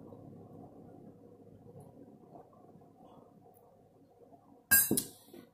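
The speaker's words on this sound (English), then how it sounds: "and a glass of ice water." Ice clinks sharply in a glass of ice water near the end, one bright close knock standing out after several seconds of low quiet room hum.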